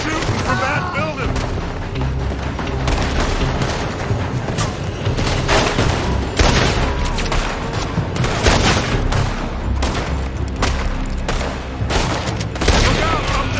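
Gunfire comes from a building in the video game Red Dead Redemption 2: dense, loud volleys of rifle and pistol shots crackle almost nonstop, with overlapping booms and shouting voices in the mix.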